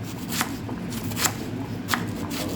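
A knife is chopping cabbage for salad, landing about four crisp, evenly spaced cuts against a board over a steady rustling background.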